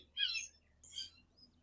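Small birds chirp outdoors in two short bright bursts of high twittering, fairly close, against a quiet low background hum.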